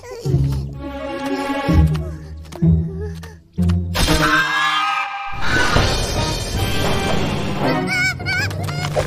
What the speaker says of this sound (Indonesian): Angsa-angsa ni garang.